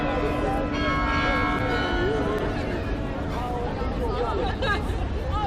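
A bell rings repeatedly in the background aboard a North Sea ferry while a crowd chatters and people talk nearby.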